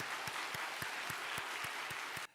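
A church congregation applauds steadily during a worship service, a continuous bed of clapping with a faint regular beat running through it, which cuts off abruptly at the end.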